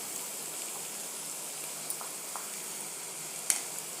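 Ivy gourd (dondakaya) curry frying in a pan just after salt is added, giving a steady, soft sizzling hiss throughout, with a few faint scrapes and clicks of stirring near the end and no one talking.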